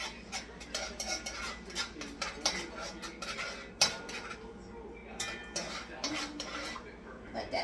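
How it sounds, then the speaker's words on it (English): A spoon scrapes and clinks against a metal pot while stirring rice for Puerto Rican arroz con gandules, a close series of irregular knocks and scrapes over a low kitchen background. "Just give it a stir."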